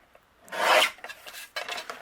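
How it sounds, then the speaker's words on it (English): Ivory cardstock being trimmed to an A2 panel, giving a close scraping rasp of about half a second followed by a few softer, shorter scrapes. "I am going to trim this down to an A2 panel"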